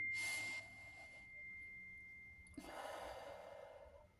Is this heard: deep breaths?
yes